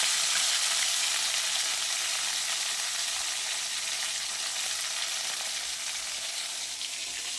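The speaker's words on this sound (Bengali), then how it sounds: "খুব সাবধানে করবেন এই মাছ ভাজলে।" Fish frying in hot oil that bubbles and spatters hard, giving a dense, steady, close sizzle with crackling that never lets up and no voices over it.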